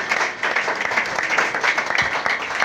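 A church congregation applauds steadily, a dense, close patter of many hands clapping with slight rhythmic swells throughout.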